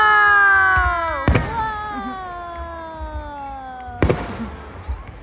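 At a town fireworks show, a descending whistle is cut off by a sharp, loud bang, then a second blast follows a few seconds later, with scattered crackles and faint voices around them.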